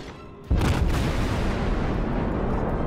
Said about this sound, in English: Another salvo.